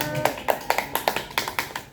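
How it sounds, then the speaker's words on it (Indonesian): Children in a classroom clap their hands together in unison, a quick run of about nine sharp claps at a steady, slightly uneven rhythm, close and clear. "tepuk tangan buat kita semua."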